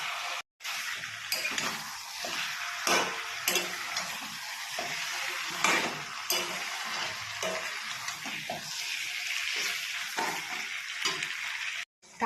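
Chicken sizzles in a pan with cumin powder and garam masala as it is stirred, giving a bright continuous frying hiss broken by repeated spoon scrapes and clinks, close and without speech.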